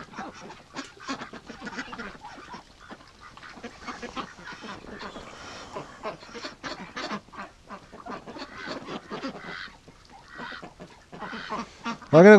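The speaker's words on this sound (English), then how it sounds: "Look at these crazy ducks over here" Rouen ducks pecking at fallen icicles near a roof make a busy stream of quacks and honks, close and fairly loud, overlapping in irregular bursts and ending in a sudden louder rush of sound.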